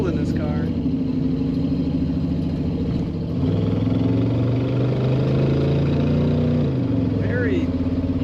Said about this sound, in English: Very unique and nice rumble coming out of the tail of this car